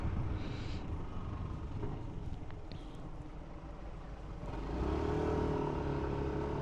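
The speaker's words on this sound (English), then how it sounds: "Wasn't expecting there to be traffic here." Road traffic around a motorcycle rider on a motovlog, a steady broad rush of engine and wind noise that swells louder near the end, with no talking.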